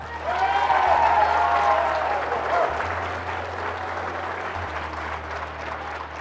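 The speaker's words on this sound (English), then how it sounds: "another big round of applause for Rafael Roybal" Audience applause for Rafael Roybal at an awards show, a sustained loud crowd of clapping that stays even for several seconds with a low hum underneath and a faint voice early on.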